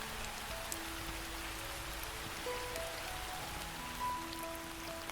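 Steady, soft rain pattering on a surface, a continuous even hiss of drops with faint tonal hum beneath, heard alone without voices.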